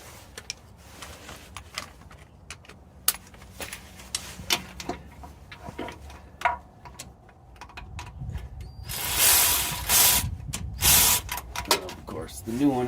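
A hand ratchet tightens the starter motor bolt on a 2002-2005 GMC Yukon, sounding as repeated close clicking strokes in short bursts, with a louder rasping stretch of rapid clicks near the end.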